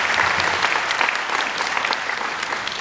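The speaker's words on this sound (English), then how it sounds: "Nice round of applause for them." An audience at a live Hawaiian music evening gives a round of applause, a dense, loud wash of clapping that holds steady and tapers slightly toward the end.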